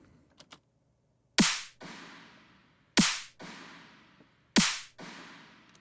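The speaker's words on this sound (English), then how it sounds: "Using a LA parking garage reverb with an unhealthy amount" Three loud drum hits spaced about a second and a half apart, each followed by a delayed wash of LA parking garage style reverb that decays into a roomy tail, with faint ticks before the first hit.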